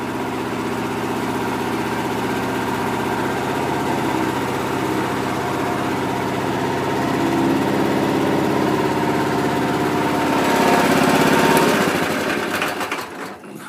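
Harbor Freight trencher with a 9 HP engine idling, a steady loud chugging drone that swells slightly and then revs up briefly before dropping off at the end, no talk.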